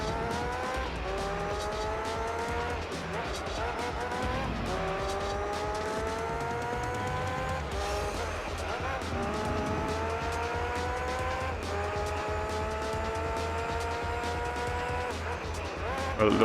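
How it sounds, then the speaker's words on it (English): Racing car in Gran Turismo 3 drifting through corners, tires squealing in long repeated screeches over a steady, loud engine whine that rises and falls with each gear change. "I'm unfortunately drifting too much, and drifting is obviously very bad for tires"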